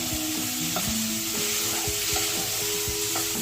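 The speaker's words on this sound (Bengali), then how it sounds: "আর ফুলকপিটা একটু ভালো করে লাল লাল করে ভেজে নিতে হবে" Cauliflower fries in oil with Kashmiri chili, giving a continuous soft sizzle under repeated scraping stirs and clanks of a spoon against the pan, fairly quiet and close, with no talking.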